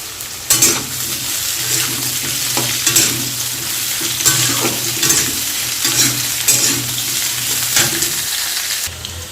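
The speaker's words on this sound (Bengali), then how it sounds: "ভাজবো হালকা করে আর এদিকে পটলটাও ভাজবো দুটোই একসঙ্গে ভেজে নেব হালকা করে" Sliced radish and pointed gourd fry lightly together in a pan, giving a steady close sizzle broken by regular scraping stirs of a utensil against the pan, with no talking.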